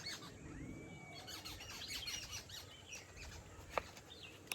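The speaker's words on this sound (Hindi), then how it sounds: "ये देखो चिड़ियों की आवाज़ देखो" Busy outdoor ambience near a canal and field with high, squeaky bird chirps and calls scattered throughout, a brief whistled note early on and a sharper chirp near the end.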